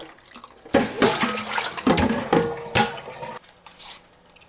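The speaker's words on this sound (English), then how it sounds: "Clean the napa cabbage and drain out all the water." Water runs steadily over napa cabbage being rinsed for a chicken meatball soup, a loud splashing gush lasting a few seconds before dropping to a quieter trickle.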